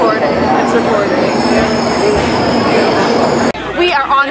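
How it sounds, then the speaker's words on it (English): A loud, steady rumble and hiss fills a moving Japanese bullet train's interior, with a high whine on top; it cuts abruptly near the end as voices take over. "We are on a bullet train right now."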